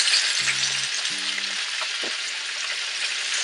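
Fish frying in a pan with spices for peanut sauce, giving a steady, close sizzle throughout, with a couple of short tonal beeps early on and a brief clink.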